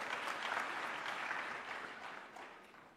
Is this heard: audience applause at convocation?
yes